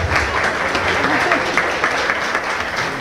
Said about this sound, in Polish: Wielkie brawa dla nauczycieli.